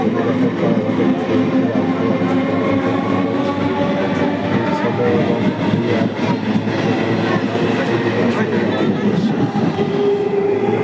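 A train pulls into a railway platform with a continuous loud rumble and rattle of the rolling carriages that holds steady throughout, with faint voices underneath.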